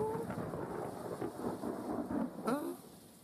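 Low rumbling thunder from a receding storm rolls in the distance, muffled and steady beneath rain, with faint voice-like sounds in the mix.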